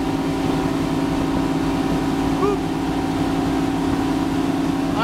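A 1989 Mako 261 motorboat runs on plane at about 3,000 RPM and 25 knots, giving a loud, unbroken engine drone with water and wind rush throughout.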